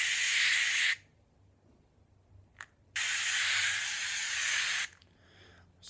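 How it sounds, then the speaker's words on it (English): Spray sunscreen hisses from an aerosol can in two long, close bursts of about two seconds each, with quiet pauses and a faint click between them. "So the easiest way is I bought myself a spray sunscreen."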